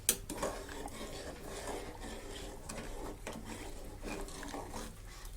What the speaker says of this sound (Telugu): ఇప్పుడు ఈ కార్న్ఫ్లోర్ వాటరు ఇందులో వేసేసి